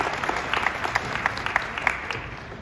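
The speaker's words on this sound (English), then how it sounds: "Please give them a round of applause" A crowd at a music educators' award presentation gives a steady round of close, lively applause, with individual claps popping out of the continuous patter for nearly three seconds.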